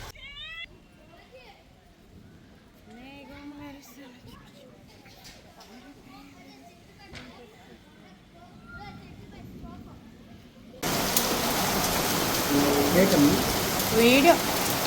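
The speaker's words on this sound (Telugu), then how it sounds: "ఉరుములు మెరుపులతో పెద్ద వర్షం అయితే వచ్చేసింది." A heavy rainstorm with thunder in a village: people talk quietly over a calm background for most of the stretch, then a loud, dense downpour hiss abruptly takes over for the final few seconds.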